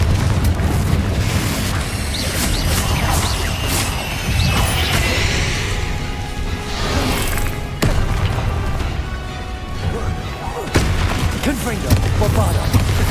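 Loud booming blasts and crashing impacts from Confringo blasting spells in Hogwarts Legacy pile up over dense battle noise for the whole stretch, with a voice shouting over the chaos.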